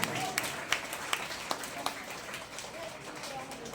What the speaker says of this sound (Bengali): সবাই মিলে একবার করতালি।